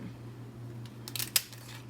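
Kitchen scissors snipping through a hard lobster tail shell, a couple of sharp crisp cuts near the end over a low steady hum, close and fairly quiet, no talking.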